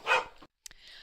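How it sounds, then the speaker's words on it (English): A single sharp dog bark, followed by a brief silence and some faint, muffled background noise. "sorry for the barking there"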